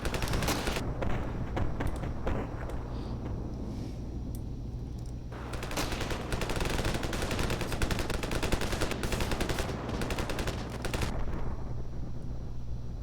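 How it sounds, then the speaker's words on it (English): Sustained gunfire and combat in the video game Ravenfield, with dense bursts of automatic fire and scattered shots rolling over a steady low rumble throughout, no talking. "Looks like there's some fighting going on over here, just based on where the enemies are on the map."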